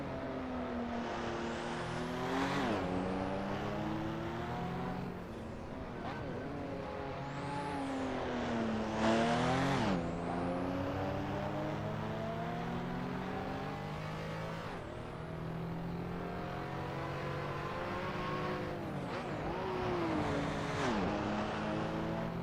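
A mid-engine, rear-wheel-drive car accelerates repeatedly, its engine note climbing in rising sweeps through the gears and dropping between pulls, loud and close throughout.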